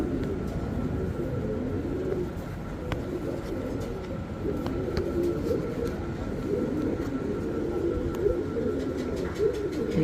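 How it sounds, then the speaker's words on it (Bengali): Pigeons in a cage at a pigeon sale centre give soft, continuous low cooing, several birds overlapping at close range, with faint rustling and a distant mechanical rumble behind. "মার্শাল্লাহ এখানে একটা ফিমেল কবুতর দেখতে পাচ্ছেন"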